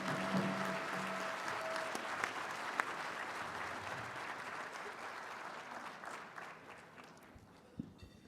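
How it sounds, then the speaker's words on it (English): An audience claps steadily at the Mille Lacs Band of Ojibwe State of the Band Address, a dense, even applause that holds for several seconds before slowly thinning out. "One more round of applause."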